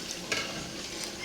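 Tomato fries in a pot while being stirred, giving a close, steady sizzle with soft scraping strokes and a brief louder stir near the start.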